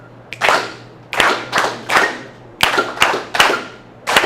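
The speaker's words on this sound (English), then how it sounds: "We're gonna clap it and it gives you a metronome." A group claps a steady rhythm in sharp, loud unison bursts at summer band and dance team camp, roughly two claps per second, with a faint hum beneath.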